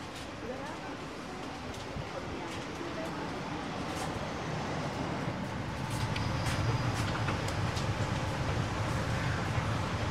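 Steady rumble and low hum inside a new Batavia economy passenger train carriage, with a faint voice now and then over the continuous rolling noise, which grows slightly louder toward the end.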